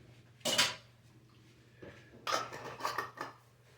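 Pizza dough ingredients being whisked in a bowl, two bursts of clattering, scraping whisk strokes against the bowl separated by a short quiet pause, close and fairly faint.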